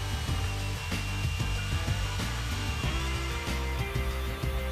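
A FEIN core drill with a rotating core bit cuts a narrow ring from a bolt head, a loud, steady motor whine with rhythmic grinding and scraping pulses throughout.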